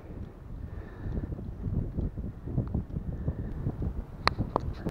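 Wind buffeting the microphone while cycling around a lake, a continuous low, gusty rumble that rises and falls close to the mic, with a few sharp knocks near the end.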